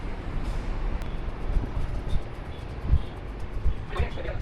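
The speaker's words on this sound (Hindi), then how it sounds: "So this is the train." Meter gauge train at a station in Mysuru, near the 1899 Maharani saloon car, a low rumbling idle with station ambience, birds and faint background voices.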